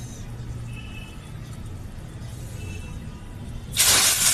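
A hot spice tempering is poured into masoor lentil dal cooked with drumsticks, and it bursts into a sudden loud sizzling hiss near the end, after a low background of kitchen noise without speech.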